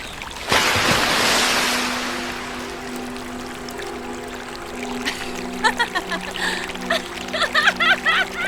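River water splashing as someone sinks under: a sudden loud splash that fades into a steady wash of water, followed by a run of short bubbling and gurgling bursts.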